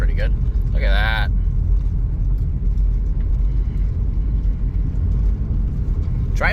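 A 2000 Chrysler Grand Voyager SE minivan gives a continuous low rumble of engine and road noise while driving. It stays close and steady throughout, with brief squeaky sounds near the start and end.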